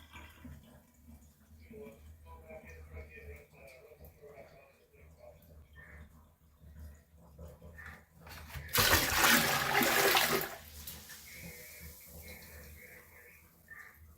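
Kohler Trent toilet flushed in a bucket test, a loud rushing siphon surge lasting about two seconds midway, set against quieter background noise and murmured talk before and after.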